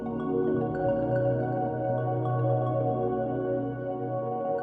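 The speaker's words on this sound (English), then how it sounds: "that's an instrument called a pad." Soft, sustained synth pad chords from Pikmin 4 video game music hold steady and swell gently, a lush, floaty wash of harmony filling the background without any voices.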